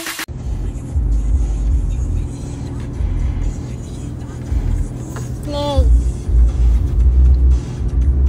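A Porsche car driving, a deep steady engine rumble and road noise heard from inside with some rises in revs, plus a brief bright chirp and voices talking over it.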